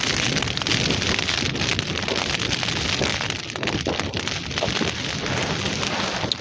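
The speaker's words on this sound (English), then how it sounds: "I don't know if this microphone's picking it up, the rain on the tent" Heavy, steady rain drums on a tent during a wild camp on Bleaklow in the Peak District, a dense, constant close patter with no voices.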